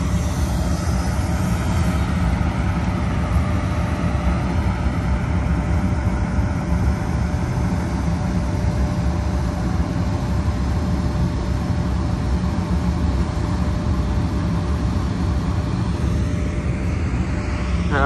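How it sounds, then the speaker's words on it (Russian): Train pulling out of a railway station in winter, with a continuous broadband rumble and steady engine drone that holds evenly for the whole stretch, moderately loud and nearby, no talking. "Поехал поезд."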